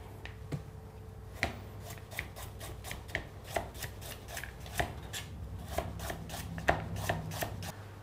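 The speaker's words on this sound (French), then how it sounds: "On épluche les carottes, puis on les coupe en fines lamelles." Peeled carrots sliced thinly with a knife on a cutting board, a close run of crisp, evenly paced chopping taps that gradually quickens, with a low steady hum underneath.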